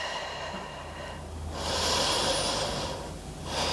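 Sharp exhales and sniffs through the nose rise and fall during a postpartum core workout hold, close and breathy, with two louder pushes of breath a second or so apart.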